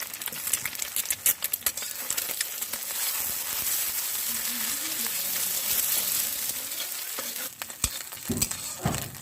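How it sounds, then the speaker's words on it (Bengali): Farm-fresh hen's eggs scramble into bhujia in a pan. A constant close sizzle carries clattering spatula strokes, dense at first, then quieter frying, then more brisk scraping near the end. "তো ডিমগুলো আমি এখন ভুজিয়ে করে নিচ্ছি।"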